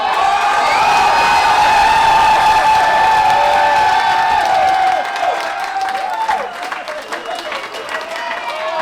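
Wedding guests at a champagne-themed reception applaud and cheer loudly as a crowd, with whoops and shouting mixed in; the clapping stays dense for about five seconds, then thins and fades while voices carry on.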